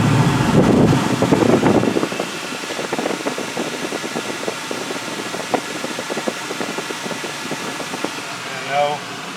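A 1998 Ford Mustang GT idles with its air conditioning compressor engaged, a steady mechanical hum and fan whir heard up close, louder for the first two seconds and then settling lower, with a brief rise near the end.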